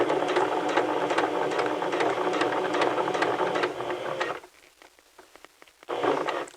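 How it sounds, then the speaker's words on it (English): A sewing machine stitching fabric close to an existing seam runs in a loud steady whir for about four seconds, pauses briefly with faint clicks, then starts up again. "And then you're going to be sewing just to the left of this, as close as you can possibly get."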